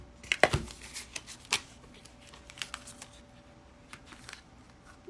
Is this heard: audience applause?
no